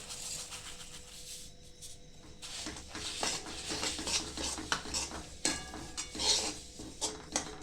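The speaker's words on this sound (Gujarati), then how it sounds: "હવે આ તલ આપણે અંદર નાખી દેવાના છે" Sesame seeds going into light jaggery syrup for til laddu, with a spoon scraping and clinking against the pan in repeated stirring strokes, close and fairly loud, with brief pauses between bursts.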